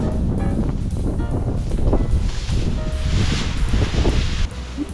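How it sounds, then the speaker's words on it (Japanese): Strong gusts buffet a campervan parked outdoors on a summer camping trip in Tohoku, roaring steadily and close with rustling, flapping bursts throughout and no speech. "強風が吹いてるからもう逆向きにしてスライドドア側をかざしました"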